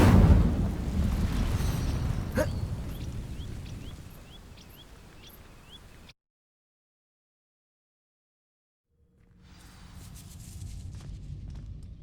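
Incendio fire spell setting dry vines alight in Hogwarts Legacy, a whooshing crackle of flames with a sharp pop, fading before a stretch of silence, then faint burning and ambient rumble returning.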